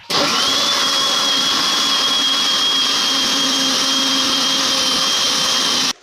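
A mixer grinder blends mango juice with sugar and water, a loud, steady motor whir with a high whine that runs unbroken for about six seconds and then cuts off abruptly.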